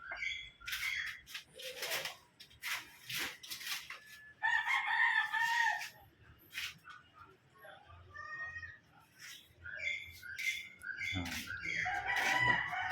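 Gamefowl roosters crowing repeatedly in a chicken coop, several near and far crows mixed with clucks and squawks over a quiet background, with faint talk at times.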